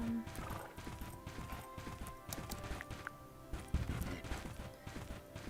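A horse gallops in the Bella Sara video game, its rapid rhythmic clip-clop steady throughout, along with a neigh and a crash, under game music.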